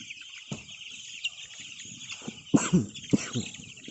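Hens cluck in short, scattered bursts in a coop at night, a few louder calls near the end over a constant high hiss of background noise.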